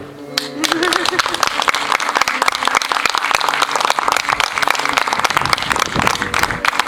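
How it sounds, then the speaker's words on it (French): An audience gives Fabien a dense, sustained round of clapping, loud and close throughout, with a few sustained musical tones at the start. "applaudir à nouveau Fabien parce que je vous laisse applaudir"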